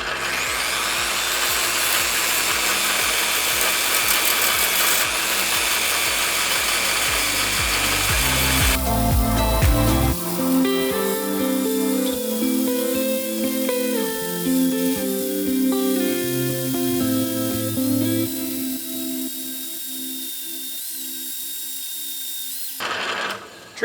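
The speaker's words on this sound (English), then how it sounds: "I slowed my drill press down. I think it'll work on really low gear." A drill press whines and grinds steadily, then slows into a lower, slower hum at low speed with shifting tones; loud and close, with no talking.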